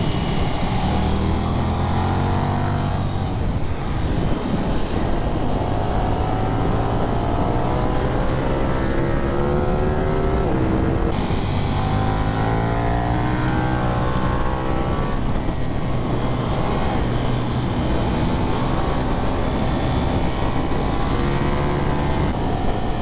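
A KTM 1390 Super Duke motorcycle engine while riding, a loud continuous drone that rises and falls in pitch with throttle changes, heard up close with steady wind noise and no talk.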